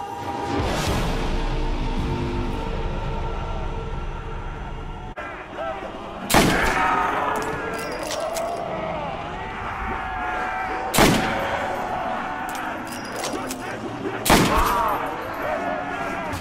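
Pistol shots in Call of Duty World at War Zombies on the Shi No Numa map, a few sharp loud cracks spaced several seconds apart over a dense, busy game soundscape of music and creature noise.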